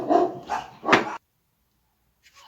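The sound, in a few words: dogs barking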